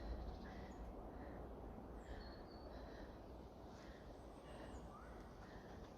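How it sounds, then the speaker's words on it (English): Birds call faintly in Näsby park, Sweden, their short, scattered chirps repeating over a low, constant outdoor rumble of wind and distant ambience. "I hear the birds."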